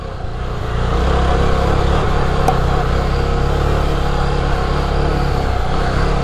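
Yezdi Scrambler motorcycle on dual-purpose tyres riding an off-road trail, its engine droning steadily and close after a brief softer start, with rough rumble and a single sharp tick partway through.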